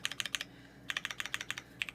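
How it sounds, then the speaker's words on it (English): Typing on an MB-TKL prototype 40% keyboard, a quick run of sharp clicky keystrokes in two bursts separated by a short pause, close and fairly quiet, with the backspace key among the presses. "when I was typing and I was hitting like the backspace, I noticed it like it has a much louder sound"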